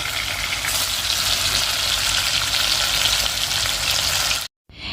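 Fish frying in hot oil makes a loud, continuous crackling sizzle, close and steady for several seconds before it stops suddenly.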